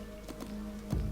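Ant larvae hatching in the Empires of the Undergrowth video game, giving a few soft, spaced popping clicks followed by a slightly louder pop near the end, over a steady low game hum.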